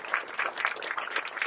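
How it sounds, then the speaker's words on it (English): A seated audience at the opening of the new Saginaw City Hall applauds the Saginaw Fire Department Color Guard, producing a steady, fairly quiet wash of clapping that lasts throughout without any voices. "A round of applause for the Saginaw Fire Department Color Guard"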